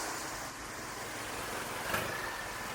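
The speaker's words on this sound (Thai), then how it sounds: "ในขณะที่รถยนต์ก็เล่นไปมาครับ" Cars passing on a forest road in Khao Yai where wild elephants roam, a steady mid-distance engine rumble that swells slightly as a vehicle draws near, alone without talk.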